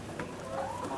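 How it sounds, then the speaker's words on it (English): Chickens clucking inside a coop, soft overlapping clucks and murmurs, close and steady for a brief moment. "So that's a very young chicken there."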